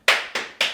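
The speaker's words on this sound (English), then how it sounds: "She's here to applaud" Three sharp, separate hand claps, close and fairly loud, evenly spaced with a brief fading tail after each, as a person off to the side applauds in a casual setting.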